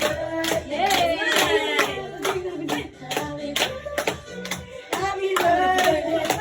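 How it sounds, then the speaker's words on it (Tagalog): Family and friends clapping at a birthday celebration, sharp rhythmic hand claps close by, mixed with singing voices and cheerful chatter throughout. "Palakpak ka!"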